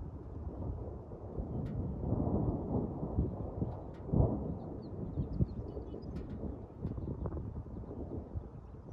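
Low rumbling thunder from a spring thunderstorm over Sugarloaf Mountain in Big Bear, rolling steadily with a louder crack near the middle, heard over wind noise with no talking.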